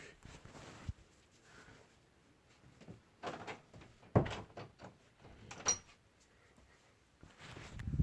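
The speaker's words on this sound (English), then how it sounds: "let me go ahead and close my door" A door being closed indoors, with scattered knocks and handling sounds that build to a sharp bang midway, followed by more light thuds in a quiet room.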